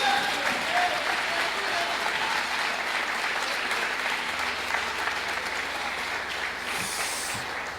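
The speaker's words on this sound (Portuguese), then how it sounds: "aplauda o Senhor, aleluia" A church congregation applauds in praise, a broad sustained wash of clapping with scattered voices inside the crowd, easing slightly toward the end.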